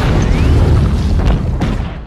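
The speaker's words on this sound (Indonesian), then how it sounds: "Tiba-tiba ledakan pun terjadi." A massive explosion in the film Godzilla (2014), fought among giant monsters, roars as a loud, sustained rumbling blast that fills the whole moment and slowly tails off.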